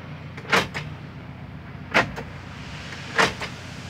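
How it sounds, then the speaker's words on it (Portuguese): Electric door lock fitted to a VW Brasilia actuating three times, each a short, sharp mechanical clunk spaced about a second and a half apart over quiet background. "Na hora que eu trancar a porta do motorista, já vai comandar"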